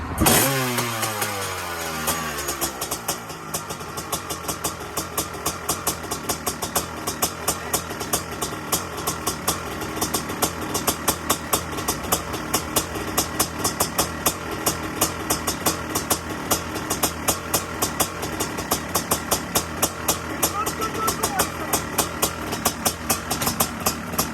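A 500 CR motorcycle engine starts up and settles into a fast, rapid-fire idle of sharp two-stroke pops, loud and close, holding steady for over twenty seconds with no voices.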